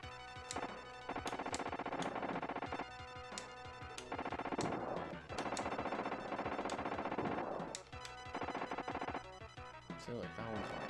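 Rapid machine-gun fire rattles in bursts in T2: The Arcade Game, dense repeated shots with crashes and explosions layered over game music, pausing briefly between volleys.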